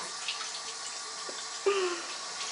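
Water runs from a tap in a home bathroom while someone waits for it to warm up, a soft continuous hiss with a few faint splashes and clinks, heard alone at moderate level.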